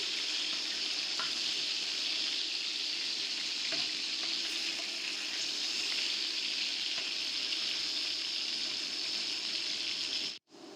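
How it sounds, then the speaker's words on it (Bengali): Quail meat frying in a frying pan until golden brown, giving a loud, continuous sizzle and crackle that is close and steady, with faint stirring scrapes, cutting out sharply near the end. "মাংসগুলো নেড়ে চেড়ে গোল্ডেন ব্রাউন করে ভেজে নিলাম।"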